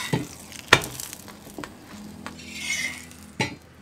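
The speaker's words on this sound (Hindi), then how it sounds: "उसे अच्छा सा क्रिस्प करके घी में अच्छे से फ्राई करके" Paratha frying in ghee in a pan, a soft sizzle running under scattered sharp clinks of a spatula and pan, moderately close, with no voices.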